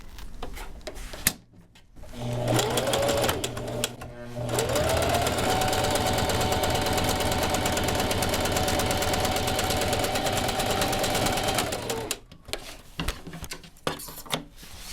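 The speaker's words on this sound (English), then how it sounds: "I'm going to stitch along the chalk line you can see there" A sewing machine stitches a vinyl seat cover for a 1971 Honda CT90 motorcycle, running in a loud, steady, close whir for about ten seconds, with short start-and-stop bursts and clicks before and after.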